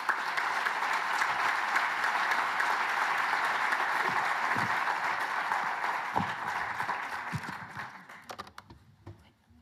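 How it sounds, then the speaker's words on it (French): Audience in a hall applauding a speaker with dense, sustained clapping that holds steady and then thins out into scattered final claps. "Et je vous demande de l'applaudir très très fort."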